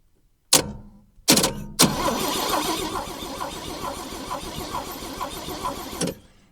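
An old Rambler car that sat for over 30 years, with a coil fault, cranks without catching: two short bursts, then a steady grinding crank of about four seconds that cuts off abruptly. The cranking is close and loud.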